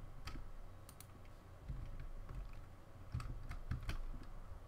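Keys clatter on a computer keyboard in quick, uneven bursts of clicks over a low background hum, during a Minecraft-style building session testing spawners. Fairly quiet and close, with no talking.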